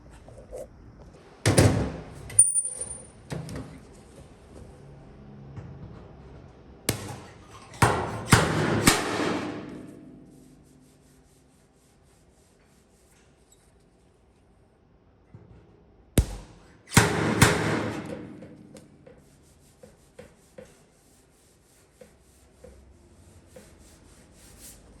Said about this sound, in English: we can slide hammer these little dents out